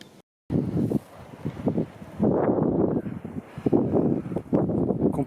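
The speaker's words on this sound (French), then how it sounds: "Qu'est-ce qu'il y a comme vent?" Strong wind gusting across open country near Bapaume and Péronne, where wind turbines stand, a loud, continuous rushing buffet against the microphone that swells and dips in waves, with no voices.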